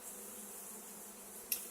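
Honey bees hum in a steady, faint drone close to an opened hive during a structural comb rescue, with one brief sharper buzz near the end.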